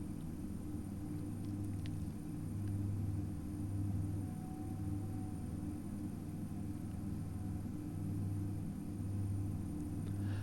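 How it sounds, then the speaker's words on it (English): Steady low drone of the twin turboprop engines of a Carenado B1900D in X-Plane 11 during ground taxiing, a continuous hum that swells gently at intervals, heard alone at moderate level. "They sound reasonably like a turbo prop would sound, I suppose"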